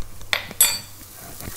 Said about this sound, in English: Give that another little stir.